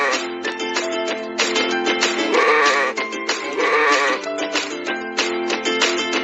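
Sheep bleat repeatedly and loudly, several overlapping wavering cries in quick succession, close by with no talking.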